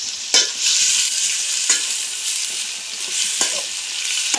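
Sliced onions with a pinch of salt fry and crackle in a hot pan for a Kerala-style chicken curry, a loud, close, steady sizzle broken by a few sharp stirring scrapes, with no talking.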